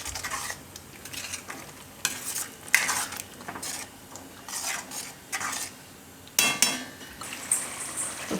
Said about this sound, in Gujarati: આને આપણે મિક્સ કરી લઈશું અને ચણાને થોડીક વાર ગ્રેવીમાં ઉકળવા દઈશું.